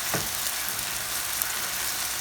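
Taco meat fries in a pan with a steady, close crackling sizzle that holds evenly, no voices.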